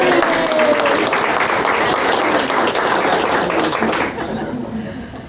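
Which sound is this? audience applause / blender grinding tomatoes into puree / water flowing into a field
audience applause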